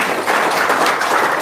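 An indoor audience clapping, a dense, even patter of many hands that is fairly loud and close and lasts a short burst, with no talking over it.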